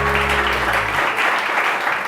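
Studio audience applause on a television morning show, steady and moderately loud, entering over a fading low musical tone and continuing on its own.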